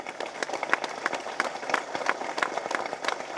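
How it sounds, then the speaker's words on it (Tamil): Clapping from the audience at a Tamil film audio launch: scattered, moderately quiet hand claps with distinct individual slaps, irregular and thin rather than a full roar. "நீங்கள் தட்டுற கைத்தட்டெல்லாம் அவங்க மாமனாருக்கு"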